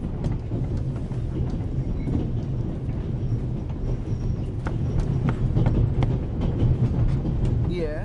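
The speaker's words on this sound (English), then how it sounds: "The noise on this train is driving me crazy" The Orient Express train in The Raven adventure game rolls along with a dense, continuous rumble and rhythmic rail clatter heard up close, with scattered sharper knocks.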